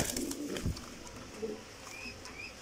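Racing pigeons of the Black Diamond breed coo softly at close range, a few low murmuring calls over faint rustling and background noise.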